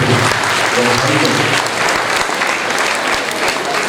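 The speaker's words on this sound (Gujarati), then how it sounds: "આપણે જોરદાર તાળીઓથી વધાવીએ." A large crowd at a stage programme claps loudly and continuously throughout, a dense close wash of applause with a voice faintly audible beneath it.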